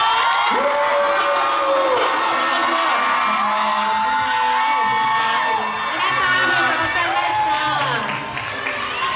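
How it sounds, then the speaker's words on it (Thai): A crowd of fans at a JO1 stage event in Thailand cheers, whoops and screams loudly and continuously, with high-pitched shrieks rising and falling throughout. "ปรบมือกับเจโอวันนั้นนะครับ"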